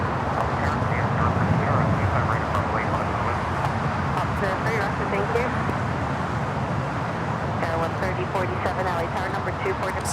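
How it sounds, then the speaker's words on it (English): A DHL Boeing 777 freighter in from Anchorage touches down at LAX with a broad, continuous roar of jet engines and rushing air, while a voice talks over the noise. "We now have the DHL 777 freighter touching down"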